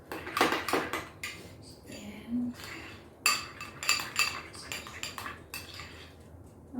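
Cream cheese filling for Danish pastries being mixed in a bowl with a utensil, giving irregular close clinks and scrapes in bursts with short pauses between.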